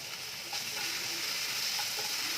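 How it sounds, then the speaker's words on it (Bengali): Sliced onions with a little salt and a few curry leaves frying in a pan for a masala dosa potato filling, giving a steady close sizzle with soft stirring clicks and no voices. "এগুলোকে এখন ভালো করে আগে একটুখানি ফ্রাই করে নিচ্ছি আমি, যতক্ষণ না পেঁয়াজটা আমাদের পুরো ব্রাউন হবে না"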